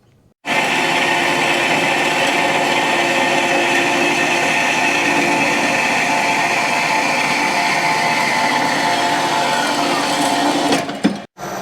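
A metal part for a Suzuki RM250 motorcycle being cut, a loud, steady machine whine with a harsh grinding edge that runs unbroken for about ten seconds after a sudden start, then stops abruptly.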